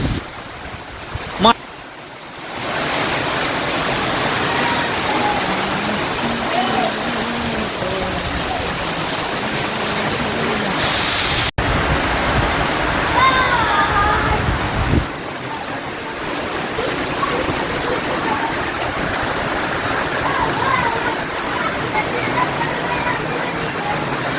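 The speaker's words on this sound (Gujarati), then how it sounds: "જો આવે છે વરસાદ" Steady, dense hiss of heavy rain pouring continuously, with a brief thump near the start and a sharp click midway.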